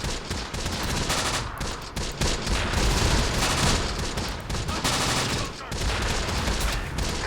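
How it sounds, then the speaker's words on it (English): Video game Close Combat battle with dense gunfire and mortar fire, a sustained loud mix of rapid shots and booms with no pauses, mostly alone with little talk. "And we're taking some heavy fire."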